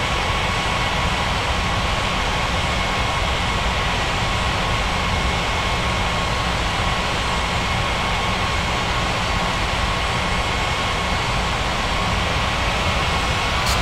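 A jet airliner rolling down the runway for takeoff in an air traffic control game, a steady, loud, broadband engine roar with a faint whine that holds constant throughout, without speech.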